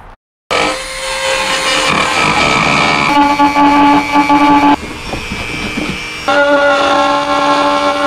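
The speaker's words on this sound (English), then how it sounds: "It's not super thick, so you might even be able to get away with just a razor, but the Dremel is definitely going to make it easier." A Dremel rotary tool cuts a hole in thin plastic interior trim of a 2018 Subaru Impreza, producing a loud, high whining buzz that shifts pitch in several stretches after a brief pause at the start.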